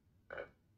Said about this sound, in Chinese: 他在那里打嗝